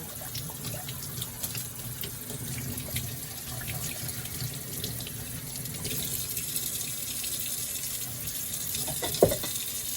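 Tap water runs steadily into a sink as a juicer part is rinsed, a continuous splashing stream with a brief louder knock near the end.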